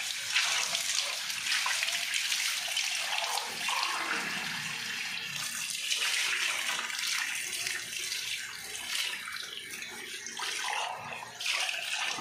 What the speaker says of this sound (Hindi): ये धो लिया ठंडे पानी से,